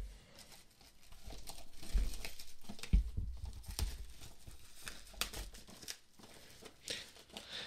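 The box of a 2018 sixth-generation Apple iPad is opened up close, with crinkling plastic, tearing and patters of cardboard and wrap in an irregular, busy stream and no talking.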